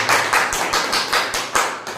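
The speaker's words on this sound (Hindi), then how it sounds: "मैं चाहता हूं कि इन 5 डायरेक्टरों के लिए जोरदार तालियां।" A training-session audience claps loudly for five directors, the claps landing in a brisk, even rhythm, about five per second, with no talk over them.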